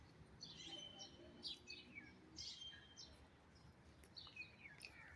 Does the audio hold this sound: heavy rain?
no